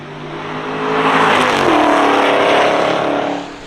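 A Porsche Cayman accelerates hard down a race track straightaway at Summit Point Motorsports Park, its engine note climbing loud and steady for several seconds before easing slightly.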